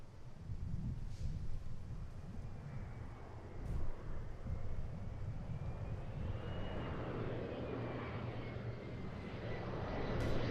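An airliner on a two-mile final approach into Seattle-Tacoma airport makes a distant, steady engine rumble that swells slightly as it nears, with wind noise across the microphone.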